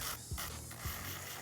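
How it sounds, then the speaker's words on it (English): An electric nail drill on its lowest setting buffs the shine off a natural fingernail under light pressure, giving a close, steady raspy whir with two brief dips in pitch. "when I'm removing the shine from the natural nail, I'm on the lowest setting my drill can go"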